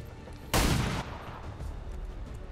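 A single pistol shot in XCOM 2 cracks out as one loud, broadband burst with a short tail, followed by a low ambient hum.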